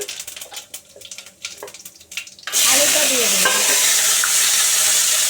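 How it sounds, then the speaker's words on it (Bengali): Cumin seeds and a bay leaf hit hot oil with a sudden loud hissing sizzle that follows a few quiet kitchen clinks and then stays steady and close, with no talking. "এক চামচ জিরে জিরে তেজপাতা ফোড়ন দিলাম"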